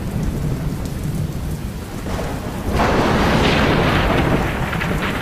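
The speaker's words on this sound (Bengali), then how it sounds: "না বলতে বলতে বৃষ্টি চলে এসেছে।" Steady rain pours down with a low rumble of thunder, growing heavier and louder about halfway through; no voices.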